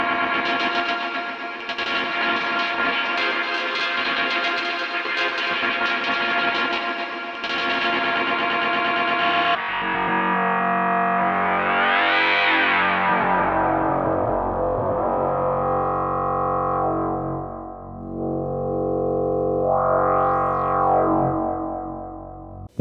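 A granular sampling effect on an MPC sampler: a dense, buzzing stream of short sample grains that later sweeps and warbles in pitch with echoing, distorted swells, loud and steady throughout.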